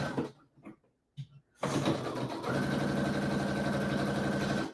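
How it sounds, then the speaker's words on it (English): A sewing machine stitches fleece sleeves in at the shoulder seam, starting with a few short bursts, then running in a steady, continuous hum close by. "I'm just sewing the sleeves in now."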